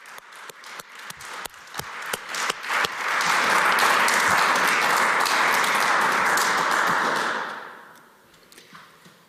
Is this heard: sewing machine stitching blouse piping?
no